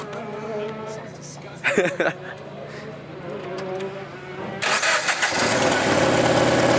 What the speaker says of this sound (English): Making weird, throaty exhaust sounds.